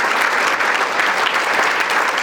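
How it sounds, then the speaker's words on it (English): Audience at a university athletics senior recognition and MVP banquet applauding, a continuous, even burst of clapping filling the room. "a round of applause for our MVP and our seniors for Washburn"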